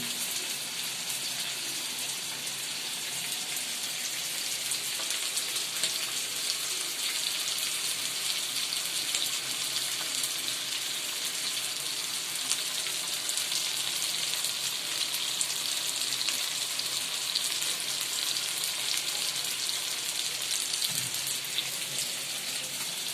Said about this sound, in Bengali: মুরগি তেলে ভাজা হচ্ছে